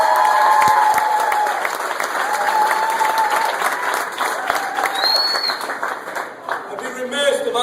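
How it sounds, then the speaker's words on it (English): Crowd applause for Rosario Dawson at a get-out-the-vote rally in Raices, dense steady clapping with cheers and voices mixed in throughout. "Let's give her a round of applause"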